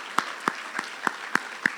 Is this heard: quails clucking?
no